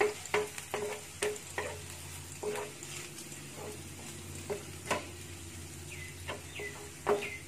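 Garlic sizzles quietly in oil in a pan before chicken giblets are added. The soft, steady frying hiss is broken by intermittent scraping and tapping from stirring, and no voices are heard.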